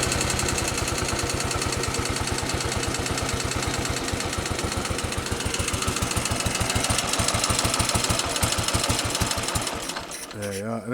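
A 1947 Gilera 250 Nettuno motorcycle engine idling with the ignition retarded, a steady rapid chug close by that falters and cuts out near the end.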